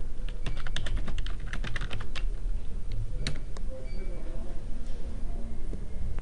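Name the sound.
typing text on a computer keyboard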